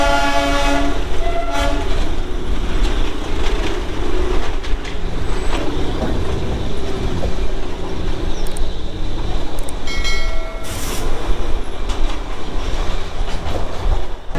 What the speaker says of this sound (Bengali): তেমন সুন্দর দার্জিলিংয়ের এই টয় ট্রেন রাইড